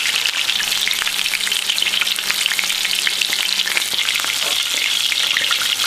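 A steak fries in a cast iron frying pan with oil on medium-high heat, giving a loud, steady, dense sizzle with crackling pops throughout and no voices.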